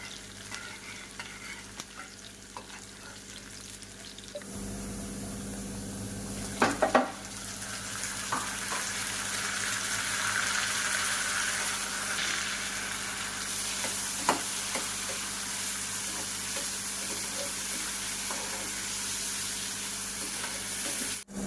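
Spices tempering in hot oil for dal tadka, a steady close sizzle and frying hiss with occasional stirring scrapes and clinks of a pan throughout, no voices.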